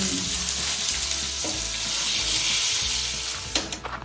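Fish deep-frying in a pan gives a dense, continuous sizzling roar with a low rumble beneath and a few sharp clatters near the end, loud and close with no voices.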